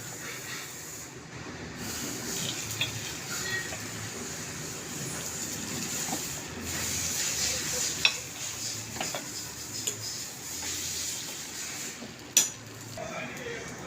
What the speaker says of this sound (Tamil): வெள்ளை பணியாரம் ஊற்றியாச்சு.